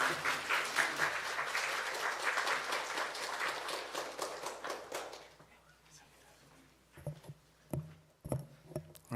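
A church congregation claps in welcome for a visiting pastor, dense applause for about five seconds, then dying away to a few scattered bumps and knocks.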